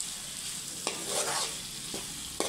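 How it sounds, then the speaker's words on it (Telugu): Mutton pieces frying in oil in a pan, stirred continuously so they don't stick, giving a steady close sizzle with sharp scraping clicks of the spoon against the pan. "ఇప్పుడు కొంతసేపు ఇట్లా తిప్పుతూనే ఉండాలండి అడుగంటకుండా. ఇప్పుడు ముక్క బాగా ఫ్రై అయిపోద్ది."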